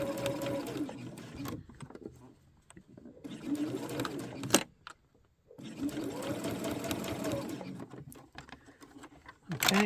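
A sewing machine stitches a quilted Christmas tree in a straight line, running in several steady whirring bursts separated by short pauses, close and fairly quiet.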